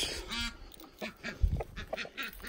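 Ducks quack repeatedly in a bursty, irregular rhythm, fairly close, with honking goose-like calls mixed in and no talking.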